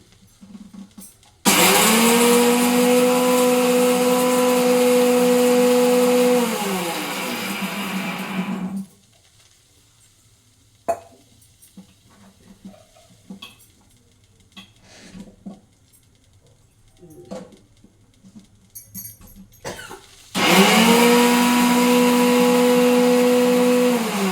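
A mixer grinder whirs loudly as it grinds coconut masala, running in one long burst of about seven seconds, then stopping for quieter handling clatter before starting up again.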